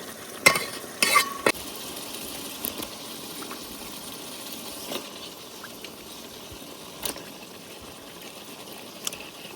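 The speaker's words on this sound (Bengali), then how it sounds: "এখন আমি মাংস আর কাঁঠাল সব একসাথে দিয়ে দেব।" Chicken and young jackfruit go into a pan of fried spices: a few sharp splashing thuds up front, then a steady close sizzle with scattered soft stirring knocks.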